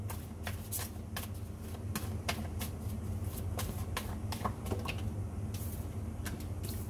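Oracle cards are shuffled and drawn in quick, crisp riffling bursts, close and fairly faint, repeating across the whole stretch with no one talking.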